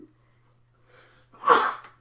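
A single loud sneeze bursts out near the end after a short quiet breath, close and alone with a low steady hum beneath.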